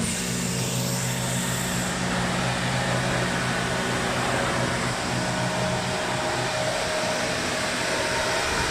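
A CNC milling machine running an automatic cutting cycle, a continuous loud whirring hum with a steady high-pitched whine throughout, close and unbroken, with no talking.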